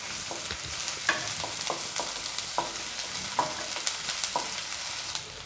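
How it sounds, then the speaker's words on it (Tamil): Onion sautéing with ginger garlic paste in a pan for egg manchurian, a steady sizzle broken by repeated scraping taps of a stirring spoon, close and alone. "வெங்காயத்தோட இஞ்சி பூண்டு விழுதையும் சேர்த்து நல்லா வதக்கிடலாம்."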